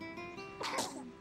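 A single sharp sneeze bursts out close by after a brief quiet breath, loud and sudden, then fades.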